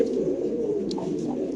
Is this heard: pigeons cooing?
yes